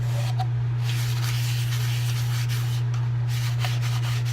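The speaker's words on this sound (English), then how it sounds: "So we'll finish putting on sanding sealer" Steady rubbing of a cloth applying sanding sealer to turned oak burl, soft and continuous with a few brief scrapes, over a constant low electrical hum.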